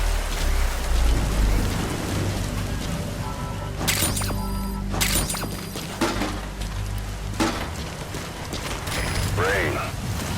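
Rainfall in Metal Gear Solid V: The Phantom Pain, a steady hiss of rain on surfaces mixed with game mechanisms, sharp intermittent clicks and tones, and a brief warbling call near the end.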